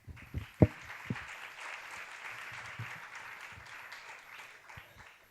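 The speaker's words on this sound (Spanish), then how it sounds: "Un fuerte aplauso para ellos." Applause from an audience at a science communication talk, a soft, distant wash of clapping that runs steadily under a few louder thumps and knocks near the start, with faint background hum.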